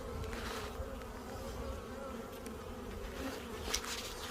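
Honey bees swarm over an open hive during an inspection, a dense, continuous buzzing drone that stays steady and close throughout.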